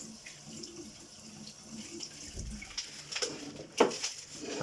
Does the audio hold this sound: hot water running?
yes